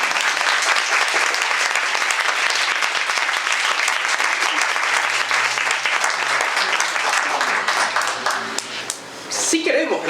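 An audience at a university talk on autism and neurodivergence bursts into loud, sustained applause from many hands, which holds steady before tapering off near the end.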